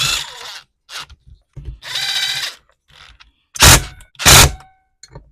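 Stihl FS130R string trimmer pull-started by hand: several separate rasping, ratcheting cord pulls, with two louder, harsher bursts near the end and short mechanical clicks between, close and loud with no engine catching.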